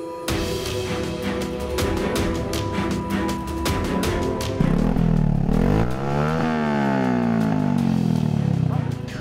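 A loud motorcycle engine rumbles and revs with a harsh, rattling exhaust, steady throughout, with rising and falling pitch sweeps near the end.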